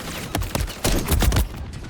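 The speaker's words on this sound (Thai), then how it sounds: "Taking effective fire" Scattered gunfire and impacts in Call of Duty MW3, a rapid cluster of several close, punchy shots over a steady battle ambience, with no talk.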